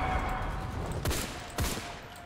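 Gunfire from a Mondragón M1908 rifle in the video game Enlisted: two or three sharp shots spaced about half a second apart, over a steady wash of background battle noise.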